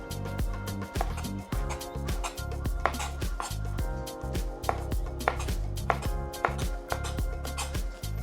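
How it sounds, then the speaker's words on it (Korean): Knife slicing hallabong citrus flesh into segment-sized pieces on a cutting board, with steady rhythmic chopping taps close up, some clacking against the board, and no talk. "과육 요 부분을 약간 한라봉 세그먼트 크기로 자르겠습니다"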